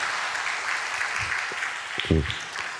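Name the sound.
church congregation applause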